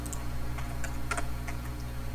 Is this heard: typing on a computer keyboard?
yes